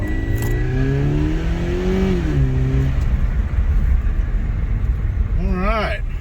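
A car engine revs and strains steadily while a driver works it through snow on a residential street after a 2021 Arkansas snowstorm, the drone rising and falling in pitch with a brief higher whine near the end.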